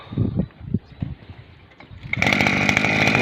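A motor cultivator's small engine, stored over winter and used for weeding garlic rows, is pulled over with a few rough sputters before catching and settling into a loud, steady, buzzing run close by.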